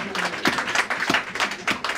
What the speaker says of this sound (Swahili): Pige makofi mtu fulani.